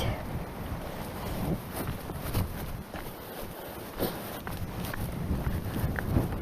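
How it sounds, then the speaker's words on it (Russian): Strong wind buffets the microphone in a constant roaring rush on the Kazakh steppe, with gusts swelling and fading throughout. "потому что такой ветер сильный"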